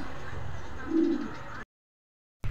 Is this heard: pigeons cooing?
yes